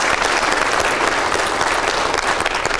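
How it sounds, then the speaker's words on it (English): A ceremony audience at a sheriff's office swearing-in gives loud, sustained applause, dense clapping filling the room with no talk over it. "So, please give them a big round of applause."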